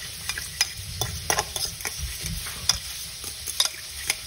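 Mayo and a special sauce being stirred together for a bacon bison burger, with soft wet scraping and stirring strokes close up, broken by brief clicks and taps, with no talking.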